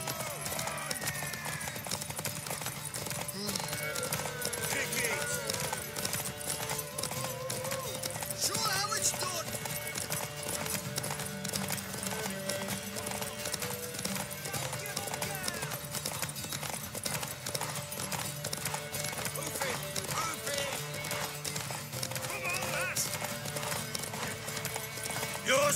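Horse hooves clip-clop at a gallop in Witcher 3, a steady fast rhythm over an ongoing race with occasional neighs, while characters talk over the top.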